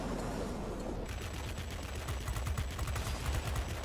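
Aircraft 20mm cannons fire in the World of Warplanes video game, a sustained rapid burst of heavy gunfire that starts after a brief lead-in and rattles on steadily at high volume.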